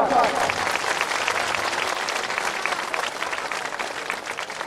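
A crowd at a farmers' protest gathering in Nava Raipur applauds the chief guest, steady dense clapping from many people outdoors, with voices mixed in.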